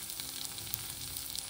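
Tomatoes drop into onions already fried red in a pan for a quick chicken biryani, and a loud, even sizzle with fine crackles carries on close by without any voices.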